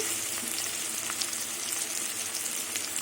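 Pumpkin, potato and onion fry with ginger in a pan, making a continuous close sizzle with fine crackles and faint stirring throughout, without any speech.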